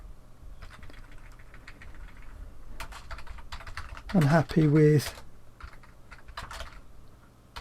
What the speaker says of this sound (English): I'm going to have to do me touch typing again.